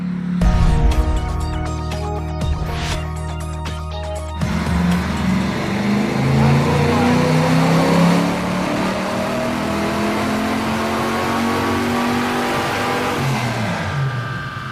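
A nitrous-equipped muscle truck roars off in second gear, its loud engine climbing in pitch after a brief idle and sharp throttle blips, the rising drone sustained and close, with no one speaking.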